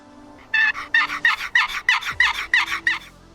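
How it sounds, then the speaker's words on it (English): A box call rasps out a rapid series of about nine loud turkey yelps in an even rhythm, close and clear against a quiet background. "Box calls are great for several different wild turkey vocalizations, primarily being yelping, clucking, cutting, and even gobbling."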